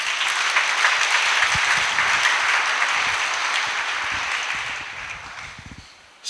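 Applause from a church congregation during a sermon, a dense steady clapping that fills the space at full loudness and fades slightly before cutting off at the end.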